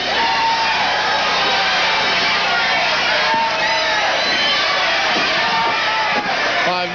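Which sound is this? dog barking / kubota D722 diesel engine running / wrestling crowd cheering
wrestling crowd cheering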